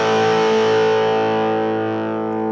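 An electric guitar rings out a sustained distorted chord through a small, inexpensive amp, the thick, fuzzy tone slowly decaying with no talk over it.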